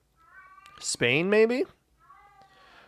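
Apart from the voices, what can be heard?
cat Seamus yelling and howling in the background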